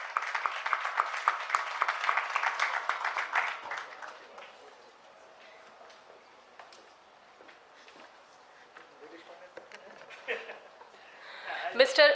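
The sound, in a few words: applause for a speaker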